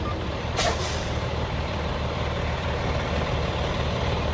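Semi truck idling in a yard as its air brake releases with a sharp burst of hissing air near the start, followed by the steady engine idle.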